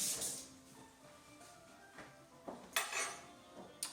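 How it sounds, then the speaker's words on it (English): A utensil stirs pineapple rum punch, giving quiet, irregular clinks and taps against a glass or bowl, with a few sharper knocks near the end. "The pineapple you want to stir it too."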